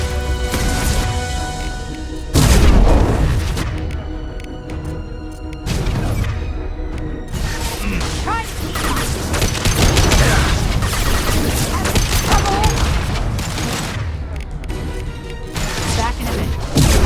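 Combat in Mass Effect 2, with bursts of gunfire and heavy crashing explosions sounding over a steady musical score, fairly loud, alongside occasional in-game voices.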